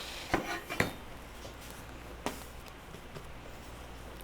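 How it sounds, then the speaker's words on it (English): A bench knife scrapes and taps against a board while bread dough for pan loaves is lifted free, giving a few faint, sharp clicks and brief scrapes spaced apart in a quiet room. "I'm gonna use my bench knife to separate the dough from the board"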